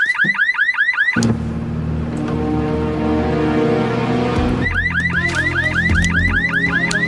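A car alarm blares loud and near, cycling from a rapid warbling whoop to a steady wailing siren tone and back to the whooping pattern, with no voices over it.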